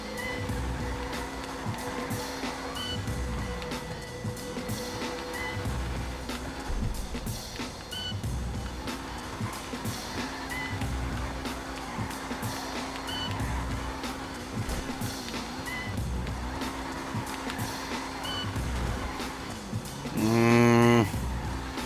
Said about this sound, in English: You can tell it is a classic sports car, though, just by the way it sounds.